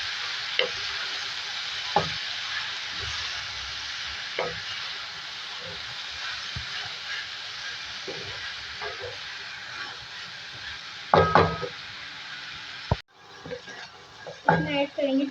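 Chopped potatoes stirred into softened onions in a frying pan for aloo bhujia, a steady low sizzle with occasional spoon scrapes and clanks against the pan, louder stirring bursts near the end.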